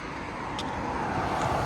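Steady road noise from cars passing on an interstate below an overpass, a continuous broadband rush that swells slightly toward the end, heard alone without talk.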